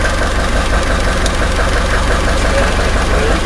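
A car engine fitted with an HHO kit idles with a steady, loud, close rumble that holds unchanged throughout, with no voices.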